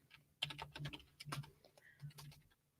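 Keystrokes on a computer keyboard clatter in quick, uneven bursts, close and fairly quiet, with short pauses between runs of typing and no talk.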